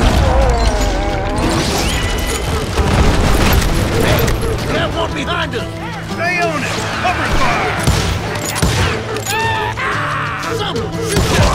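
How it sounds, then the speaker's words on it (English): Gunfire in the Call of Juarez: Gunslinger video game, with shots and impacts crackling in a busy, loud mix over a dense backdrop of shouting voices and music throughout. "Keep on shooting."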